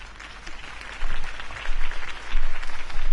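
A video game crowd applauds, clapping swelling in waves and growing louder over a few seconds, with no voices on top.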